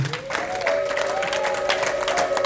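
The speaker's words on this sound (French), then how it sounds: "Acclamons la parole de Dieu." A church congregation applauding after a preacher's call to acclaim the word of God, sustained clapping with a tonal voice or instrument drone running beneath.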